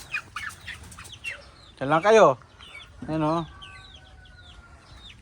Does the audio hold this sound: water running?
no